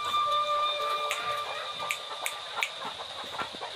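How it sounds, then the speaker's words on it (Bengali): Native country chickens cluck softly in a small flock, with scattered short clucks and faint calls spread over a quiet, low background hum. "এখানে 10টা মুরগি আছে।"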